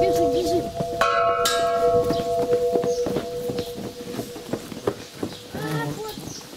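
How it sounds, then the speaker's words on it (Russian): A loose bell clangs with a ringing metallic tone that hangs on for a couple of seconds, followed by lighter knocks and clatter, while people talk nearby. "Опять у тебя колокол расшатался, Кирилл."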